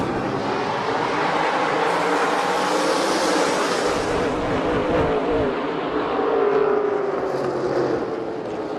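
Several SRX race cars accelerate together at a restart on the Lucas Oil Raceway oval, a loud continuous engine roar with a rushing, wind-like wash that swells slightly toward the end, no talk over it.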